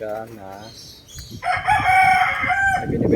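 A gamecock rooster crows loudly and close by, with clucking chickens around it and a brief bit of voice near the start, in a backyard.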